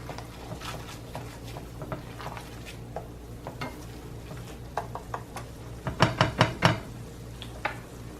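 A flour roux cooks and is stirred in a pan, giving soft scraping and tapping strokes over a low, steady sizzle, with a louder flurry of clattering stirs near the end.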